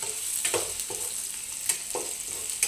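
Chicken frying in a pan with ginger garlic paste, a steady crackling sizzle broken by repeated scraping stirs of a spatula, close and fairly loud with no talk.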